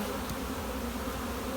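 Honeybees swarm around an open hive frame in a dense, steady buzz that stays close and loud, with no talking.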